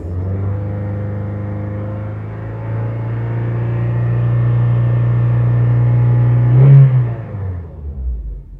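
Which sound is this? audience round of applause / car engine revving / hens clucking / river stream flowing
car engine revving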